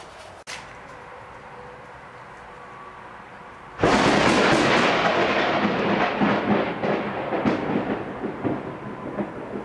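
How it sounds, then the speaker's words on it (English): A loud, close thunderclap from a nearby lightning strike bursts in suddenly after quiet outdoor ambience, then rumbles and crackles on for several seconds, heard outdoors during a front wheel bearing job on a Mitsubishi Lancer. "That was a freaking lightning bolt, man."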